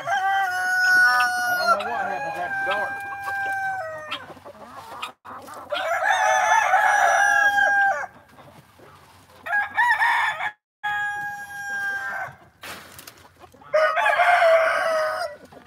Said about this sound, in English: I bet they can hear these chickens up there at the church.